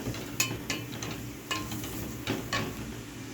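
Onion sautéing in a pan with dried coriander for a green bean and meat dish, a soft sizzle under a few scattered scrapes and knocks of a spoon stirring.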